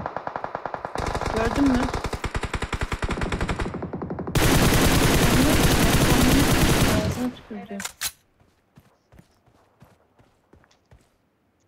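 Gunfire in the PUBG Mobile battle game: a long rapid burst of automatic fire, then a denser sustained volley, a few final shots and scattered footsteps, with a player briefly talking.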